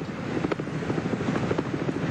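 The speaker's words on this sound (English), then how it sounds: "The view from the 7 chopper." A camera helicopter hovers over the 1982 Bathurst motor race, its rotor producing a steady, close, pulsing chop that continues throughout with no voices.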